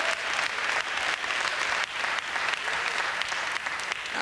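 Congregation clapping during a sermon, a dense, fast patter of many hands close by, steady and fairly loud with brief dips, no voices over it.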